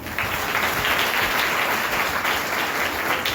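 A church congregation in a worship service applauds loudly for Jesus Christ, a continuous dense roar of many hands clapping at once, steady and full throughout without any break.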